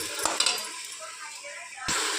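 Potato, carrot and other vegetables sizzle and hiss steadily in a hot pan, with a few clinks of a spoon stirring against the metal.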